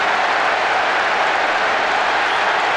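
A stadium crowd in PES6 (Euro 2004, Portugal versus Italy) reacts to a goal with a steady, loud wash of applause and crowd noise that holds level throughout.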